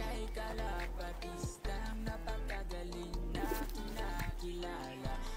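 Pigeons cooing nearby in a loft or coop, with repeated soft low coos and warbling calls overlapping in an irregular rhythm, fairly close and steady throughout.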